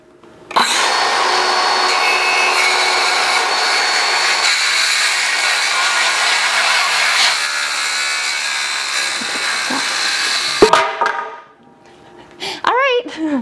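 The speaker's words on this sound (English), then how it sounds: "So, all right, I cut a board." A wooden board being cut with a power saw for chicken roosting bars, a loud steady whine running for about ten seconds before stopping, followed by a brief voice.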